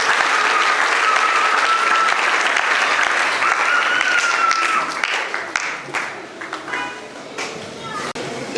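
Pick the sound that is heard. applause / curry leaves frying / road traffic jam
applause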